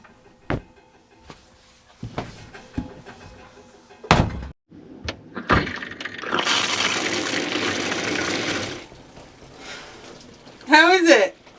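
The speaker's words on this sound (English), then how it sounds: "I'm really keen to see how much water is used in an average shower." Water gushes steadily from a caravan shower in an off-grid setup for a few seconds, preceded by scattered door thunks and clatter, with a brief burst of voice near the end.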